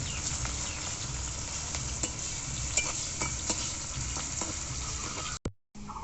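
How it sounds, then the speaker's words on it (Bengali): Chopped onions fry to a reddish brown in a pan, a steady close sizzle with repeated scraping and tapping from stirring, ending in a brief cutoff. "এবার পেঁয়াজগুলোকে খুব ভালোভাবে ভেজে নেব আমি লাল লাল করে"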